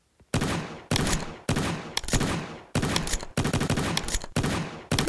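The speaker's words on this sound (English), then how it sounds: "How about a shotgun?" Shotgun blasts in the video game Getting Over It fire in quick succession, about eight loud, sharp booms spaced roughly half a second apart, each with a short decaying tail.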